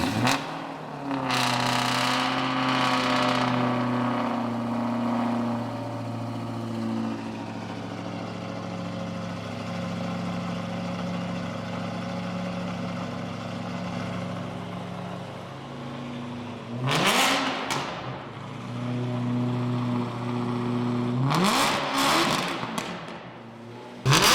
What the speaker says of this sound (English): I think you should start the car.